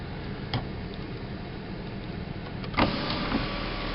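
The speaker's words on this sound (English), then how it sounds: "Oh, it's sunroof, moonroof, I never know what to call these things. Cool. This actually opens up probably. No probablys, that does open." The sunroof on a 2011 Dodge Charger opening, a soft continuous electric motor hum inside the car with a few small clicks and a louder mechanical clunk near the end.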